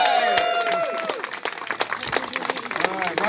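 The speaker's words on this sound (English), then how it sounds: "round of applause for the people at Railroad and the audience" A crowd at an outdoor Golden Spike railroad reenactment applauds steadily, with whistles and cheers rising over the clapping and voices mixed in.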